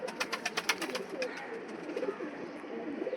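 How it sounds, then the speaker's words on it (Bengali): A pure Kanpur breed pigeon coos in a series of soft, rhythmic pulses close by, with faint background noise. "একটা পায়রা দেখাচ্ছি এটা পিওর কানপুরের ব্রিড"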